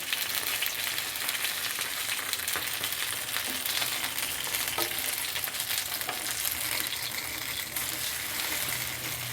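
Pieces of parwal (pointed gourd) fry in a hot pan and are flipped over, producing a dense, steady sizzle with occasional stirring scrapes and clinks, close and continuous.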